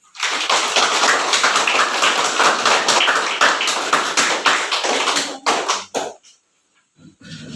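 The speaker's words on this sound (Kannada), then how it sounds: "ಚಪ್ಪಾಳೆ." Applause greets a guest at a school: a crowd of children clapping steadily and loudly for several seconds, then tapering off into scattered claps and near silence.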